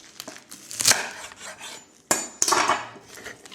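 Wild garlic stalks being cut with a knife on a board, a few sharp clicking taps and scrapes in quick succession, close and fairly quiet, with no talk.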